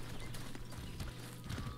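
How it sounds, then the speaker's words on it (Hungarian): A horse galloping in a video game, a brief run of quick, rhythmic hoofbeat clip-clops at moderate loudness. "Figyeljétek a lovat, gyerekek, aki tud vele menni."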